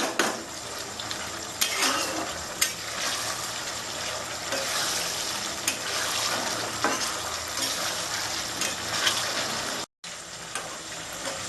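Taro pieces frying toward crispness on a full gas flame, a constant close sizzle broken by stirring scrapes and spoon clinks against the pan, with a brief drop-out near the end.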